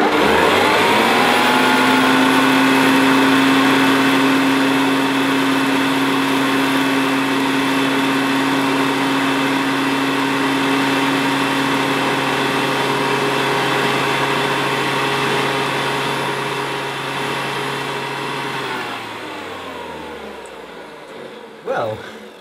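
A vintage Hoover 612 vacuum cleaner runs on carpet with a loud, steady motor drone and high whine that holds for most of the time, then winds down near the end.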